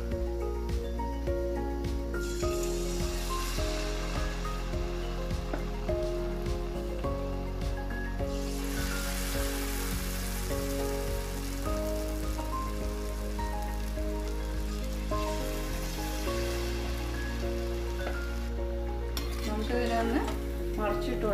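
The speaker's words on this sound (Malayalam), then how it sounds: "അപ്പോൾ നമുക്കിത് ഓരോന്നായിട്ട് ഇനി ഫ്രൈ ചെയ്തെടുക്കാം." Batter-coated cauliflower pieces for gobi manchurian deep-frying in hot oil: a dense, continuous crackling sizzle like rain on a surface, with background music playing throughout.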